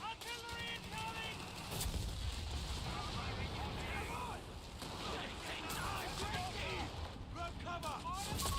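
Artillery barrage in the WWII strategy game Company of Heroes 3, dense rumbling blasts and gunfire layered with game music and voices talking throughout, steady and loud across the whole stretch.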